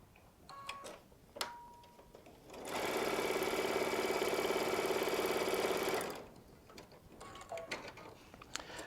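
Baby Lock Solaris sewing machine stitching quilt pieces, a steady close mechanical whir with fast rhythmic ticking for about three seconds, framed by quieter fabric handling and small clicks before and after.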